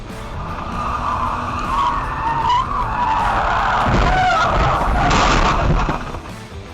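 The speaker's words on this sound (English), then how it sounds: "She lost control, and the car spun around until it hit a stop sign." A VW Jetta shoved sideways by a Toyota FJ Cruiser, spinning until it hits a stop sign: loud, sustained tire skidding and scraping, swelling with a heavier crash-like burst near the end, then fading.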